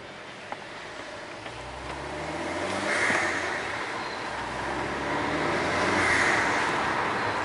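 A modified Vauxhall VXR car drives with its engine and exhaust droning steadily, swelling twice as it revs through acceleration, heard from inside the car with no talking.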